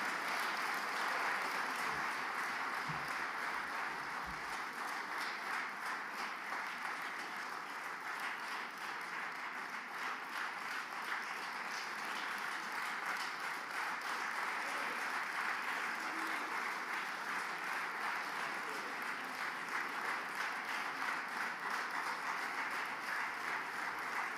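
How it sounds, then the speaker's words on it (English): Sustained crowd applause at an outdoor Biafra independence restoration rally, a steady dense wash of clapping holding evenly for the full stretch without a break. "give a loud round of applause to Honorable Sheikh Kavi, Ambazonia Governing Council."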